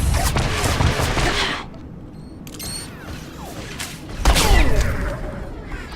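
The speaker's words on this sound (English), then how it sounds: "Have a grenade." A grenade explosion in Star Wars: The Old Republic, with a heavy booming blast, then a quieter stretch of clinks and debris, and a second loud burst of explosive noise near the end.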